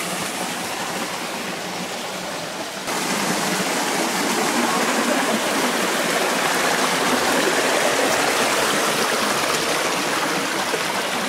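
A small waterfall spills into a mountain stream at Panagia lake in Crimea, a dense, close rushing splash that runs continuously and grows slightly fuller after the first few seconds, with no voices.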